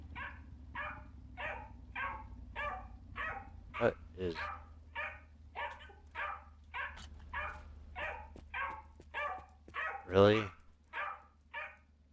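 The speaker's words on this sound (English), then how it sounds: "there's a pug that barks until you pet him" A pug barks repeatedly in the video game Drive Beyond Horizons, short regular yaps at a steady rhythm for the whole stretch, close and fairly loud, with someone briefly talking over it.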